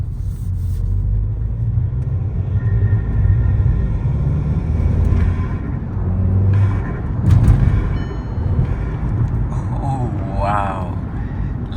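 Engine of a VW Golf Mk5 fitted with a cold air intake, heard from inside the car as a loud, low rumble that swells and eases with revs, with voices talking over it.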